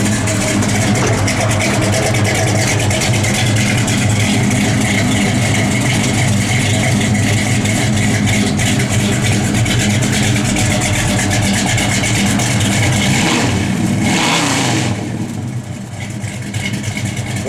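A 1969 Chevrolet Chevelle SS engine runs loud and close with a steady idle and rumbling low end, swelling slightly in bursts of revving before easing off near the end.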